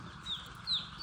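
Gavran native chickens on a poultry farm give a few short, high clucking calls that rise and fall over a low background hum at moderate distance.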